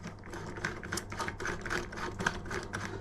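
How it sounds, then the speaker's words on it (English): Allen key clicking and ratcheting as a compression bolt is tightened into the top cap of a scooter, a quick series of close, light metallic ticks repeating steadily over a low background hum. "Top cap, compression bolt. Let's get that tightened in."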